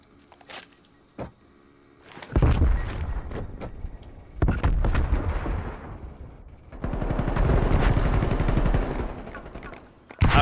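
Gunfire in a competitive shooter video game comes in several loud bursts of rapid automatic fire, separated by short pauses and preceded by a few isolated clicks and single shots.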